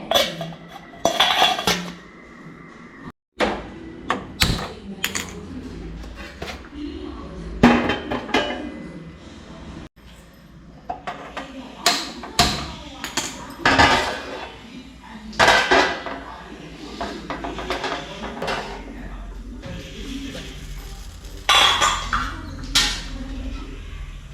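Metal pots and vessels being handled while preparing payasam in a home kitchen: irregular clanks, clinks and scrapes of cookware and utensils, close and fairly loud, with brief pauses between bursts.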